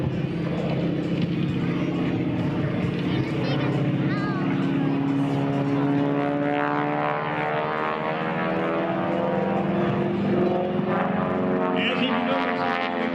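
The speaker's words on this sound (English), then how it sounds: "As he maneuvers, there's Kurt Wicker out of the cockpit of the biplane known as Aurora." A biplane engine roars continuously through an aerobatic vertical climb at an air show, its propeller drone shifting in pitch as it pulls up, under a public-address announcer's voice.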